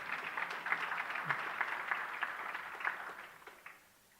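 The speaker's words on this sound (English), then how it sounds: "a round of applause, please" Audience applause at a business empowerment conference, a steady wash of many hands clapping at moderate level for about four seconds before tapering off, with no speech over it.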